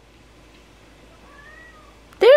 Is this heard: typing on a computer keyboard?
no